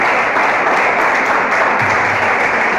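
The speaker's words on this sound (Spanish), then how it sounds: "dele un aplauso al Señor" Church congregation applauding together in steady, dense clapping that fills the space continuously and loudly for the whole stretch, with no voices standing out.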